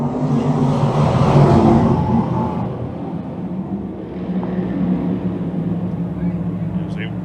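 Race car engines roar together at the start of a speedway heat at Can-Am Speedway, a loud, dense, steady drone that eases slightly after a couple of seconds, under a commentator's voice.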